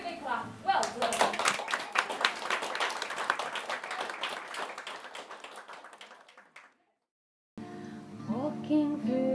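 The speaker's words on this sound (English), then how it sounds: "Very big clap." Children in an early-years music session clapping hands together in a fast, dense burst of claps that fades out, followed after a pause by voices speaking and singing.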